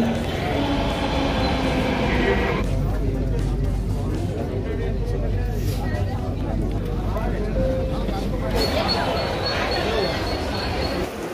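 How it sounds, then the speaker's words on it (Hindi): Loud rumbling of a metro train at a Mumbai metro station platform, with rolling wheels, shifting mechanical hums and a high whine rising near the end; background voices blend in. "मैं अभी मेट्रो स्टेशन पे हूँ"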